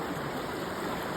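A small stream runs over stones, a steady, broad rushing and burbling of water that stays even and close throughout with no voices.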